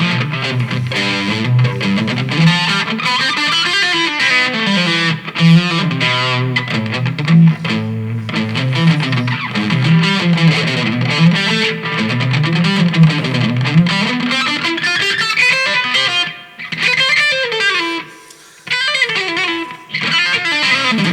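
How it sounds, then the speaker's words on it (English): Overdriven Epiphone Riviera electric guitar plays loose, wandering phrases with sustained gritty notes, loud and close, with a brief pause near the end. "so that's the overdriven tones"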